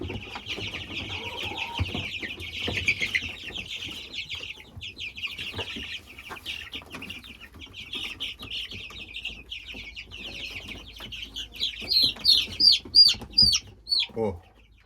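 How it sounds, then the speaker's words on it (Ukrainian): Young chicks around fifteen days old chirp continuously at a new feeder on a farm, a dense high peeping chorus with a few louder, closer cheeps near the end and faint handling noise beneath. "Отакі от курчата у нас."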